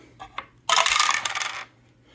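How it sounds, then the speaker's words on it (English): Two dice rolled into a dice tower during a solo Magic Realm board game session: a couple of small taps, then a loud close clatter and rattle of dice tumbling down for about a second before stopping. "So we're going to roll 2 dice and hope that the highest number is a 3. And it'd be nice to get it into this, in the dice tower."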